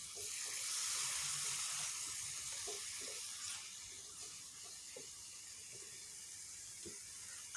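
Chicken frying in a pan over high heat for a chicken tikka pizza made without an oven, giving a steady, soft sizzle and hiss with faint clinks, and a sharp knock right at the end.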